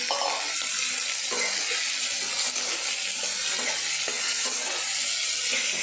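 Potatoes sizzle loudly in hot oil with fried onions while being stirred for capsicum curry, a constant frying hiss broken by soft scraping and clinks.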